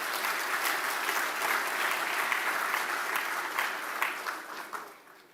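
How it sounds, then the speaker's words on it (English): Conference audience giving the organisers a round of applause, a full, sustained wash of clapping from many hands that tapers off at the close. "I think we can give them a round of applause."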